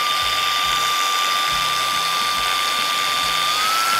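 A Ryu cordless angle grinder runs continuously at close range with a steady high-pitched whine and a slight rise in pitch near the end, loud and alone without talk.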